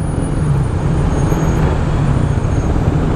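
Congested traffic on Commonwealth Avenue makes a constant loud rumble of car, bus and truck engines with no pauses or distinct passes.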